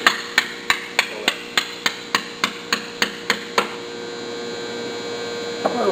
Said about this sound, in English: And finish driving the pin into it.